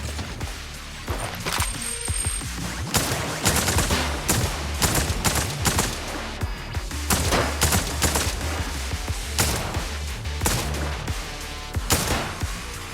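Suppressing gunfire in the video game Zenless Zone Zero: loud, dense bursts of rapid shots and heavy impacts crackling almost nonstop, with a few brief gaps between volleys.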